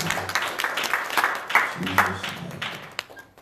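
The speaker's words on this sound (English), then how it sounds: "Would you clap your hands one more time as you go down?" Church congregation clapping hands during a worship service, rhythmic claps mixed with a preacher's voice and crowd noise throughout.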